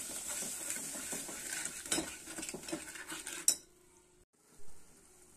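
Potato and cucumber curry is stirred in a pan with metal utensils, giving close, busy scraping and clinking for a few seconds before a sudden drop to near quiet and one brief final knock.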